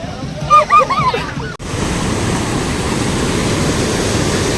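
Water rushes steadily under Nisare Bridge in Satara, a loud, continuous broadband roar that fills the scene after a brief burst of a voice at the start.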